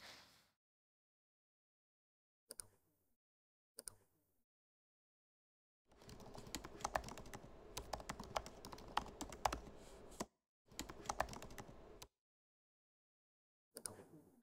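Keys tap on a computer keyboard: a couple of isolated presses, then a burst of quick typing with a brief pause, close and quiet.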